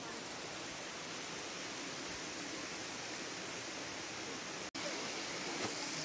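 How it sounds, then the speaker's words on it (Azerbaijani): Xalıt waterfall in the Shahdag reserve near Shamakhi roars as an even, continuous wash of falling water, interrupted only by one brief click. "Şamaxının Xalıt şəlaləsi. Möhtəşəm şəlalə."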